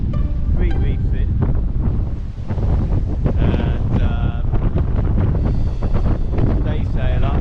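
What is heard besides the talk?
strong wind gusting over a sailing catamaran at sea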